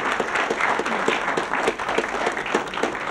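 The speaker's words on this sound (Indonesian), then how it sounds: "Oke, kita bisa tepuk tangan ya." An audience claps steadily in a dense, continuous round of applause, close and fairly loud, with no talk over it.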